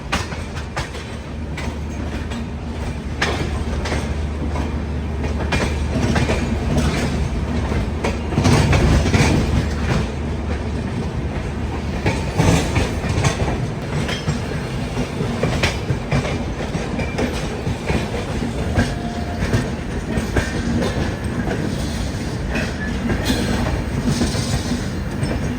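Grand Trunk Express passenger train running on rails in India, a loud, continuous rumble with rhythmic clickety-clack of wheels over rail joints and brief metallic squeals, heard from on board throughout.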